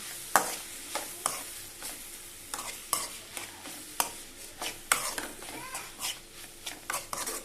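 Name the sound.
stirring ivy gourd, tomato and carrot curry in pan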